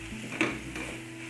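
Fish mixture frying in hot oil for savory pastol, a soft steady sizzle with a brief stir or scrape near the middle, close and fairly quiet.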